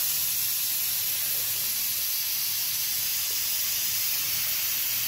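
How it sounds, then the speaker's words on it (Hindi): Loud, continuous hiss of a pressure cooker releasing steam, steady and unbroken throughout. "हमने सीटी खोल दी है"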